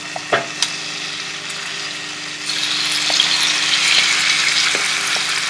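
Marinated pork tenderloin dropped into a hot frying pan, a couple of clicks and clatters, then a loud steady sizzle that grows brighter and fuller and keeps hissing close by without any talk.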